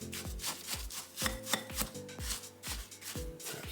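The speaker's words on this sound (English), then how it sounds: "I'm going to mix that all up." No-bake banana cheesecake ingredients being mixed in a bowl, heard as close, rhythmic scraping and thudding strokes at a quick, steady pace, with no voices.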